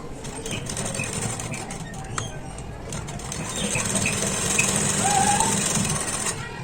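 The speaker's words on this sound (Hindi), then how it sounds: "तो आप देख सकते हो मेरी सिलाई हो रही है कॉलर में बहुत ही इजी तरीके से" A domestic sewing machine stitches a frock collar, running in a fast, even mechanical chatter with small pauses and clicks, close and moderately quiet, with faint background noise.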